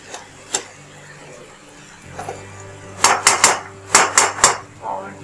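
Green chili and onion curry is stirred in a metal pot, a spoon clinking and scraping against the sides in a few quick clusters of taps after a quieter start.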